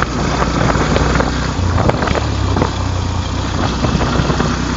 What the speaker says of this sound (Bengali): আরেকটা বাইক পাস করলো